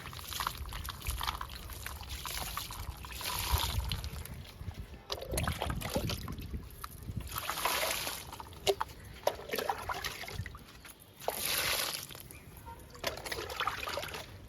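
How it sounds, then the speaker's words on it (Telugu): Water poured onto chilli plants after fertilizing, a steady splashing and trickling in repeated pours with short pauses between, close by, with crows calling faintly in the background. "ఇంకా వాటర్ ఇద్దామండి."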